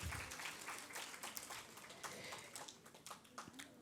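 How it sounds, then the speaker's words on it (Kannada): Audience at a Bharatanatyam ranga pravesha recital claps in a fairly faint, distant patter of many hands that continues steadily and loosens toward the end. "ಎಲ್ಲ ಸಂಗೀತ ಕಲಾವಿದರಿಗೆ ಮತ್ತೊಮ್ಮೆ ಜೋರಾದ ಚಪ್ಪಾಳೆಯನ್ನು ತಟ್ಟೋಣ"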